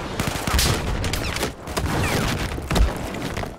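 Rapid bursts of rifle fire from Battlefield 4 multiplayer combat, including sniper shots, crack across a busy battlefield, with a loud near shot around the middle and another late, over continuous game noise.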